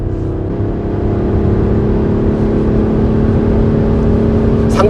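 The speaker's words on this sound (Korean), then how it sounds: "엔진 사운드" A BMW X6 M50d diesel SUV accelerates hard in its sportiest drive mode, a steady loud engine drone with a deep low rumble and a rising tone, heard from inside the cabin with no talk.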